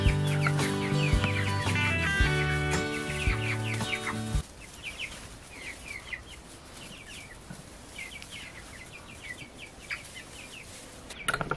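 Hens and roosters cluck and chatter nearby, at first under loud music with a rhythmic beat, then alone with scattered, varied clucks continuing to the end.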